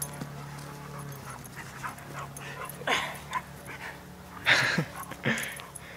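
A dog whimpers and pants close by during rough play, with short yips and whines rising over a quiet room.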